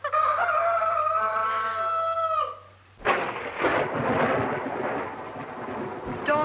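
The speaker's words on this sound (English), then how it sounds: "Storm's just as bad as ever, isn't it? Worse." Thunder crashes suddenly during a storm, following a sustained harmonic, crow-like tone, then rolls on as a broad rumbling roar that slowly fades before a faint new swell.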